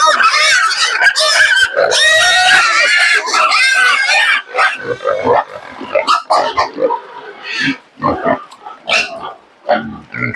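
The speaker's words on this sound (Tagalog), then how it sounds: "masyadong maingay mga baboy" Pigs on a farm squeal, grunt and oink loudly at close range, starting with an intense burst of overlapping squeals that breaks into scattered grunts and snorts.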